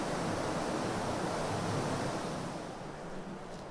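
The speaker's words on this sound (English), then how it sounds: "You can hear the water rushing by." Underground river rushing through the Guzzle Hole, a cave on Gower, as a steady, loud broadband roar of water that eases slightly toward the end, with no voices.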